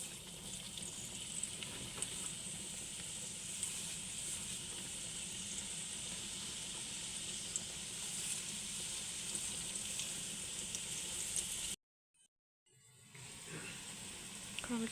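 Onions frying in oil in a pan, a steady close sizzle and crackle running almost unbroken, with a sudden brief silence near the end before the hiss returns.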